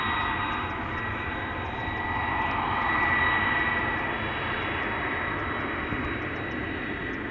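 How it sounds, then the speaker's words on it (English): A KLM Airbus A330-200 jet on its takeoff roll at Amsterdam Schiphol, a loud, steady broadband engine roar that swells slightly mid-way and holds without any talk. "Very loud and clearly audible over here. This is KLM flight 539 to Kigali."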